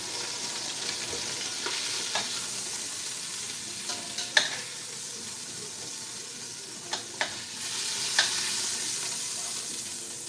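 A fatty chuck roast browns in a hot pan, giving off a steady close sizzle and hiss, broken by occasional sharp pops and the clink of utensils, with no talking.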